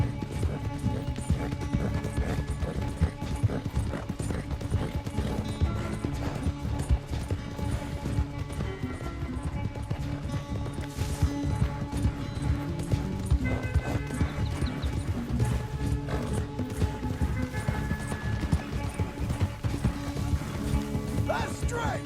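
Rapid hoofbeats gallop continuously in Red Dead Redemption 2 with a steady clip-clop rhythm during a horse race, backed by music and occasional shouted voices.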